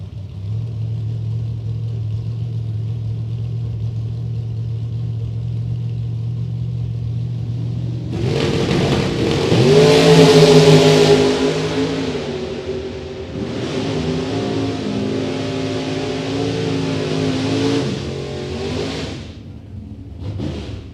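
Drag race launch between a Camaro and a Chevrolet S10: steady idling rumble, then both engines roar loudly into a sustained, rising run that fades near the end.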